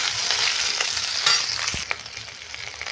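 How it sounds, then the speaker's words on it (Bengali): Pointed gourd (potol) frying in oil in a wok makes a brisk, close crackling sizzle that runs throughout, with a few light knocks of stirring. "পটলগুলো আমি ভেজে নেবো লাল লাল করে।"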